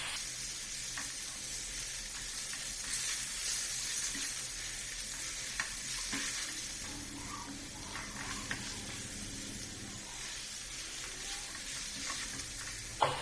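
Chicken with turmeric and salt frying for a chicken roast, a continuous sizzle with scraping and stirring noises and occasional spoon knocks against the pan, no voices.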